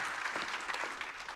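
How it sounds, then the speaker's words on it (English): An audience at a public astronomy talk in Thailand applauds a guest speaker, a brief burst of dense, even clapping heard from within the hall. "A big round of applause."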